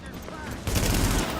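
Gunfire in the video game The Division from an inaccurate weapon, a rapid burst of sharp shots kicking in loudly partway through and rattling on to the end after a quieter lead-in.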